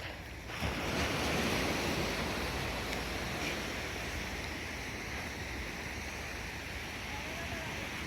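Sea waves wash onto a beach at Cheung Sha on Lantau Island, a steady broad surf roar with wind noise on the microphone, continuous and fairly close, with a voice speaking faintly.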